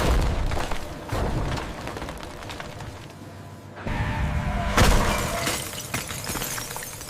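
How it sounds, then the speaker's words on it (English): A machine in a factory grinds and crushes solar panel glass with loud crackling, shattering bursts and heavy thuds, a brief lull, then renewed harsh crunching. "The sound of shattering glass is no less than a storm."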